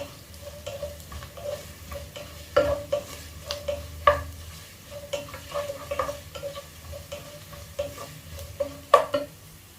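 Chopped ginger and garlic frying in a pan for a Kerala-style beef heart roast, a soft steady sizzle punctuated by repeated scraping and clinking stirring strokes against the pan, close and moderate in level.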